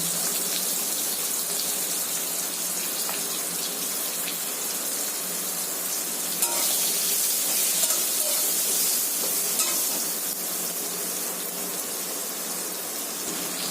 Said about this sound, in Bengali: এবার আমি পেঁয়াজগুলো দিয়ে দেবো। পেঁয়াজগুলো ওরকম 10 থেকে 15 সেকেন্ড ভেজে নেব।